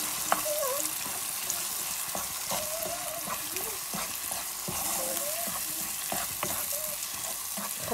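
Grilled, mashed eggplant and peppers fry in a pan for Moroccan zaalouk, giving a steady crackling sizzle with stirring scrapes while a voice speaks faintly in the background.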